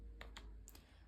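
A few quick key presses on a calculator, two close taps followed by two more, short and fairly faint over a quiet background.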